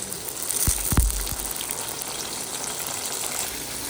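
Green chillies fry in a pan for a spinach chutney, with a few low thuds and bursts of spatter early on before settling into a steady, fairly close sizzle.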